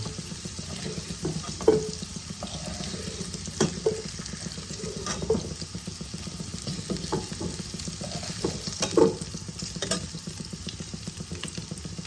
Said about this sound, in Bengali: এবার আমি ওই তেলেই আমি অল্প গোটা জিরে ফোড়ন দিয়ে দিলাম।